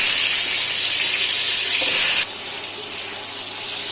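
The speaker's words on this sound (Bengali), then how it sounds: "এখন আলুগুলো ভেজে নেব" Potato pieces coated with salt and turmeric fry in a frying pan, a loud, close, steady hiss that abruptly drops to a softer sizzle partway through.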